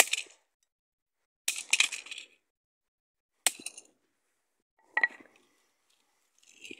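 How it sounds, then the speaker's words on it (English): A hammer smashes a plasma screen, glass breaking in four separate loud, sharp bursts spread out with silent gaps between them, each a brief crack and clatter of glass fragments. "Just bashing with a hammer like it's nothing."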